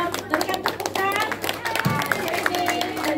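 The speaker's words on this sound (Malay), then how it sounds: "berikan tepukan" Children and adults clapping for a Sunday school child at a Bible verse memorization contest, quick scattered claps mixed with chatter and voices talking over them.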